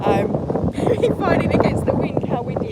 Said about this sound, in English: Fighting against the wind, how windy it is.